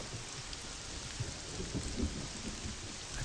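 Heavy rain hisses steadily in Morrowind while low thunder rumbles underneath, swelling slightly toward the middle of a short, continuous stretch with no voices.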